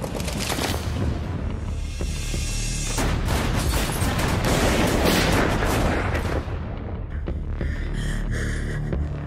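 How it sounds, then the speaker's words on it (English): Movie-trailer gunfire in a police standoff scene outside the Algiers Motel, a dense, loud barrage of shots and booming impacts that fills the mix, then drops away near the end. "Shots fired, shots fired"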